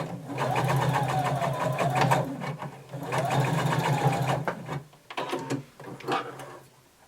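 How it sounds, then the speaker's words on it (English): A sewing machine stitches a tapered skirt seam, whirring in two long steady runs with brief pauses and a short backstitch burst near the end, close and loud with no talk. "Backstitch, and you're going to sew all the way to the end and backstitch."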